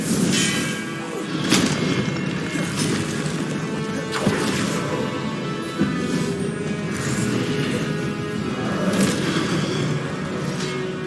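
Expelliarmus spells cast in Hogwarts Legacy: a run of sharp magical cracks and crashing impacts, some bursts louder than others, over a steady hum of battle ambience.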